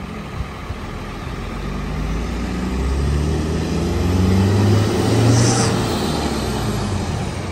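A Scania coach departs a crowded port terminal bound for Bojonegoro, its diesel engine a steady low rumble that swells slightly as it pulls away, with a brief hiss of air brakes partway through and no talk.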